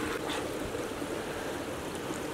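A river stream flows past a small beach in Scotland, giving a steady, full rushing and burbling wash that stays constant and fairly near throughout, with no voices.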